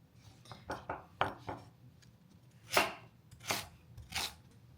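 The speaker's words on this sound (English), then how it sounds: "So we're gonna go ahead and just cut the carrots up." A kitchen knife chops raw carrots into small cubes on a board, with a run of quick irregular cuts followed by several louder, sharper chops, close and clear with no talking.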